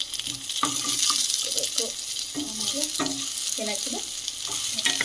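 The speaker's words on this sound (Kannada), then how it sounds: "ಮೆಣಸಿನ್ಕಾಯಿ, ಏನೇನು ತೊಗೊಂಡಿದ್ರೆ ಅವೆಲ್ಲ ನೀಟಾಗಿ ಚೆನ್ನಾಗಿ ಹುರ್ಕೋತಿದ್ದೀವಿ" Onion and chillies fry in a pan with a steady sizzle, broken by scraping stirs of a spoon every second or so, while a person talks over the cooking.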